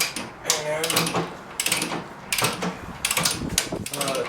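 Ratchet clicking while loosening front shock absorber bolts on a Cadillac Escalade SUV, a few close, bursty mechanical clatters in separate spurts between pauses, with someone talking over parts of it.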